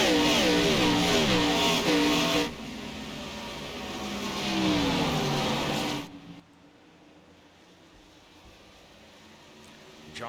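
Race car engines roar loudly past on a racetrack during a stock car championship race, revving and shifting in pitch as cars pass close, then fading to a distant hum.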